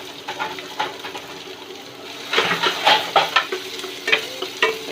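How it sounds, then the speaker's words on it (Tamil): Chopped onions tossed into hot oil with green chilies already softened, a steady close sizzle and fry with stirring scrapes that grow louder partway through, no talking. "இப்போ வெங்காயத்தை சேர்த்துடலாம்."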